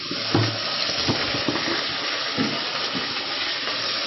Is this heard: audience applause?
no